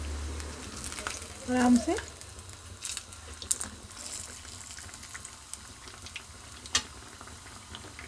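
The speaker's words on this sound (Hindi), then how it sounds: "अभी हमारी दोनों ब्रेड फ्राई हो गई हैं।" Aloo-stuffed bread pockets fry in oil in a pan, giving a steady low sizzle with a brief clatter near the start, while a voice speaks quietly in short phrases.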